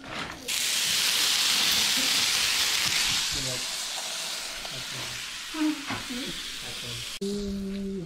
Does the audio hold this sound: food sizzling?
yes